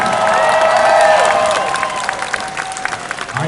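A crowd at a convention cosplay contest applauds and cheers loudly, with whistles and shouts riding over dense clapping that gradually thins into scattered claps.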